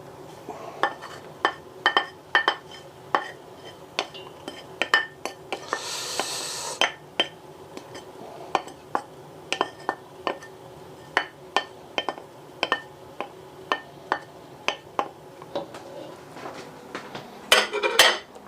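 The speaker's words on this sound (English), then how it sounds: "we'll just give that a bit of a swirl, or a stir even" A spoon repeatedly clinks and scrapes against a metal pot while grated carrots are stirred into soup, giving sharp, close knocks at an uneven rhythm. A brief rush of pouring or sizzling noise comes partway through, and a flurry of quicker clatters follows at the end.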